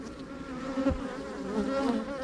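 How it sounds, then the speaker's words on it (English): Calm honeybees buzz around an open hive during a nectar dearth, a steady, soft, close drone of many wings with slight wavering in pitch and no talking. "here's again nice calm bees, they're not flying up in my face"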